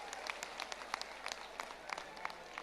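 Audience clapping at a religious gathering on Dussehra Maidan for Bageshwar Dham Maharaj, heard as scattered hand claps over a steady crowd wash, fairly distant and moderate in level, without clear speech.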